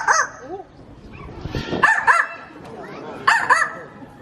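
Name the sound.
zoo animal imitating dog bark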